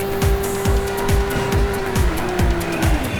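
A hard-to-handle race car in the video game Midnight Club 2 howls along at high speed, its engine droning steadily while tires squeal and skid in repeated rhythmic bursts, loud and close.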